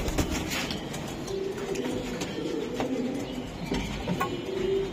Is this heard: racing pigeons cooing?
yes